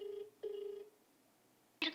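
A telephone rings back on an outgoing call and goes unanswered, giving two short, steady tonal bursts, then a brief pause and a louder click-like burst at the end.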